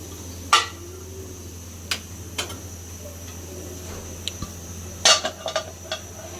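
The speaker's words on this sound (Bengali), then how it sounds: "এখন ঢাকনা দিয়ে ঢেকে দিব।" A metal lid clinks onto a cooking pot of fish curry in a home kitchen, with a sharp clatter near the start, another around five seconds followed by a few light taps, and soft ticks in between over a quiet background hum.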